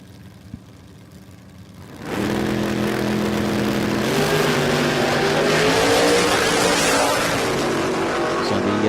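A Commodore super sedan launches hard at a drag strip, a sudden loud engine roar bursting in after a quieter lead-in and holding at full volume as the car accelerates away, with a commentator faintly audible.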